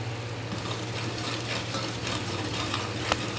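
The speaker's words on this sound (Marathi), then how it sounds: "चांगलं परतून घेते त्या मसाल्यांना, पण खाली लागायला नको पाहिजे असे" Spices for Mumbai-style butter pav bhaji sauté in oil in a pan, giving a steady close sizzle with soft scraping stir strokes and a brief clink near the end, with no voices.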